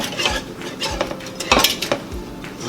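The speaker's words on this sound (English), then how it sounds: "Gonna give this a stir. Make sure it's nicely diluted in that water." A utensil stirs cornstarch into water in a pot, giving repeated scraping clinks against the metal in a loose, steady rhythm, close and fairly loud, with no talk.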